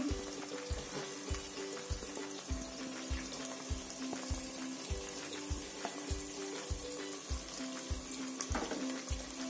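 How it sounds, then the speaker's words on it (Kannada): Four small onions fry in hot oil in a pan for coconut milk pulao. A loud, continuous sizzle sits close up, broken by regular scraping strokes of stirring about twice a second, with no voices. "ಹಾಗೆ ಈರುಳ್ಳಿ ಹಾಕೋಣ. ಈರುಳ್ಳಿ ಸಣ್ಣ ಸಣ್ಣದು 4 ತಗೊಂಡಿದ್ದೀನಿ."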